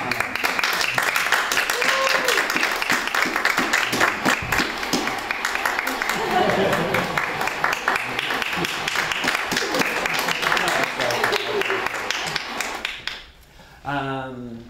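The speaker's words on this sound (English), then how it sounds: "Give it a applause." Dense, loud applause from a live audience on a talk show honoring volunteers of the month, a steady wash of many hands with shouts mixed in, which fades out near the end.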